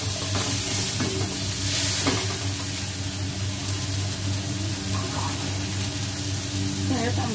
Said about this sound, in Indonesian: kita masukin kol sama wortelnya dulu